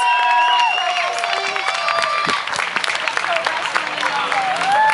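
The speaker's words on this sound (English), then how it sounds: "Give another round of applause for 8 to 13 year olds" An audience applauds and cheers for young performers at a youth event, sustained clapping mixed with whistles and shouts, fairly loud, with voices rising through the crowd.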